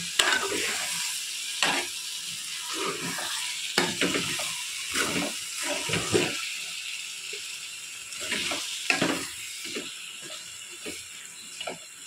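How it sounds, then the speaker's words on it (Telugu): A spoon scrapes and stirs through a thick tomato and drumstick curry in a sizzling pan, in repeated strokes with clattering contacts, close up and without speech. "ఒకసారి కింద మీద మొత్తం కలిపేసుకొని కింద నుంచి తీసుకోండి"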